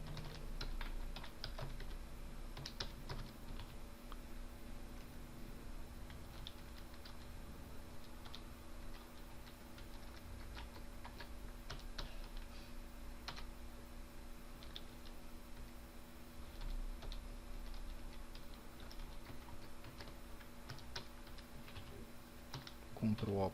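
Computer keyboard typing during a Linux server setup, keys tapped in scattered bursts of clicks and shortcut presses over a steady electrical hum, with no speech.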